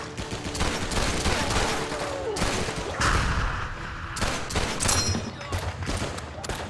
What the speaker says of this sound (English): The weapons sound great and meaty.